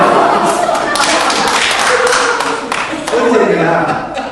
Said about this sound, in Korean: 박수 우리 조원들 박수.